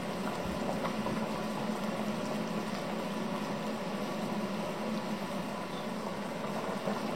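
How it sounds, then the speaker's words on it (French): A pot of vegetable soup boils on the stove, a dense steady bubbling and hissing roar that stays even and close throughout with no voices. "Voilà l'ébullition qu'il nous faut"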